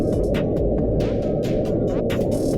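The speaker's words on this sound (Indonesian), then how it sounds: "Mereka itu mengatakan suara yang frekuensinya 50 Hz itu mungkin berasal dari gunung es besar yang udah kandas di lepas pantai." Deep underwater rumble recorded by NOAA, the 'Julia' sound thought to come from a large iceberg run aground offshore: a steady, loud low drone with faint higher whistling sweeps drifting over it, no voices.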